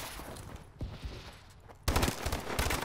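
Sniper and rifle fire in a Call of Duty Advanced Warfare Search and Destroy match: a few scattered shots, then a sudden loud stretch of rapid overlapping gunfire in the final second.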